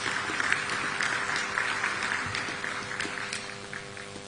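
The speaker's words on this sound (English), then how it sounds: "Please, a round of applause." Steady applause from an audience at a formal launch event in Ethiopia, continuous and moderately distant for several seconds.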